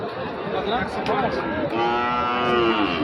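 Sahiwal bull at a cattle market lowing in a long, drawn-out moo that swells near the end, close and loud over a murmur of crowd voices.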